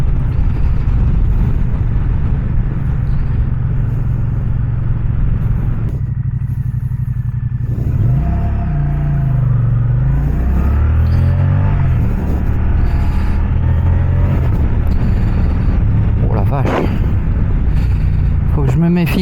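A heavy Moto Guzzi Stelvio motorcycle on the road: a continuous loud engine rumble under strong wind buffeting, with the engine note rising and falling as the bike accelerates and slows.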